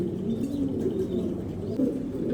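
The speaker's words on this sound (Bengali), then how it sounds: "এখানে একজোড়া সবজি রেসার পাইট কবুতর" A pair of racer pigeons, one male and one female, coo close by in a low, steady, repeated burble that runs through the whole stretch with no talk.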